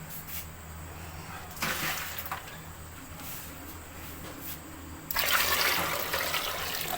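Water is poured into a large pot holding 1 kg of chickpeas, four kilograms in all, making a steady splashing rush that grows louder and brighter near the end, with no talking.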